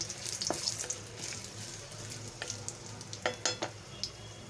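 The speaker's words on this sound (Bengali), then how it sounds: "হাফ টিস্পুন গোটা জিরে দিয়ে দিলাম মশলাটাকে আমি ভালো করে ভেজে নিচ্ছি" Bay leaves and whole cumin seeds fry in hot oil for a Bengali papaya and potato curry, giving a steady close sizzle with light stirring scrapes and a few brief spoon clinks, and no talking.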